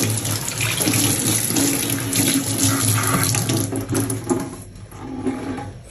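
Tap water runs steadily into a sink as a century egg is rinsed under it, a loud, continuous splashing stream that dips briefly near the end.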